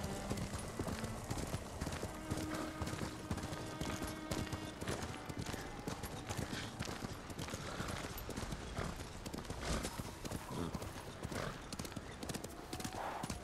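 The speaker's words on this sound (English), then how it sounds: "I think the horse runs faster on a trail" A horse in Ghost of Tsushima gallops with a fast, continuous clip-clop of hooves, accompanied by an occasional whinny, heard up close under faint background game ambience.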